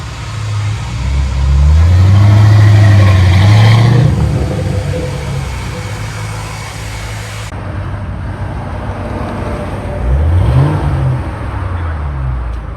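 Supercharged Saleen S281 Mustang engine revving loudly nearby, a deep rising and falling roar held for a couple of seconds, then idling rumble and a second shorter rev, with traffic-like background noise.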